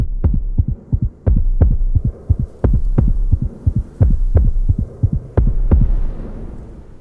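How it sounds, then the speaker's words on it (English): A heartbeat thumps loud and close in a steady paired rhythm, deep low pulses repeating over a faint hum. "All he can hear is his heartbeat thumping in his ears like a cannon."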